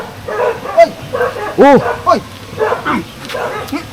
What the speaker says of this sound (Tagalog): May aso na rin.